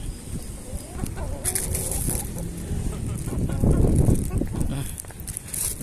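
Chickens clucking close by amid scattered movement and background noise, a rooster-like call rising now and then, with people talking over it.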